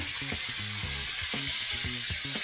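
Beef liver and oyster mushrooms sizzle hard in a hot pan, with a steady frying hiss and rhythmic scraping knocks as they are stirred.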